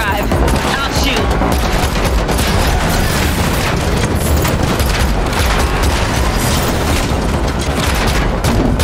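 Dense gunfire from The Matrix Awakens: An Unreal Engine 5 demo on PS5 rattles without pause in rapid bursts and booms, loud and close, over a low rumble of vehicle motion.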